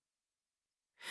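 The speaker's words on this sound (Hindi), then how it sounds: "दूसरी तरफ सिर्फ सांसों की आवाज थी।" A single breath or sigh comes over a phone line after a period of near silence: a soft, airy exhale that starts late and stays close and fairly quiet, with no speech.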